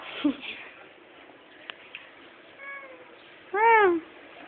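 A house cat lets out a faint, short meow and then a louder, drawn-out one near the end, indoors with a person's voice in the background.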